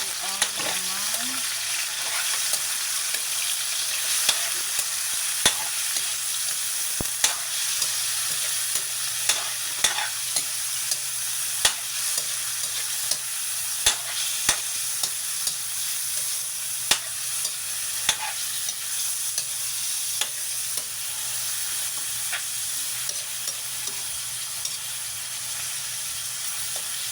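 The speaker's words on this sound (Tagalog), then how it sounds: "Nagisa tayo ng sibuyas, bawang" Onion and garlic sauté in a pan for dinuguan, a steady, fairly quiet frying hiss that holds for a long stretch, broken by regular sharp clicks and taps of a utensil stirring against the pan.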